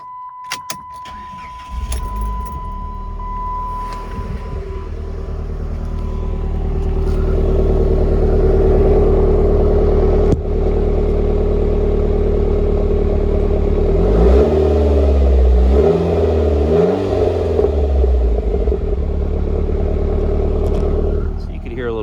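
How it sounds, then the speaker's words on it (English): A GT cruiser's engine idles, then rises into a louder sustained roar with throaty exhaust revs that climb and fall before settling, close and loud. "Now let me crank it up. I'll let you hear the exhaust"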